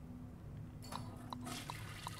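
A toilet flushes in the video game Aperture Desk Job, a soft trickling, swirling rush of water with a few small drip-like blips, quiet and brief with no voices.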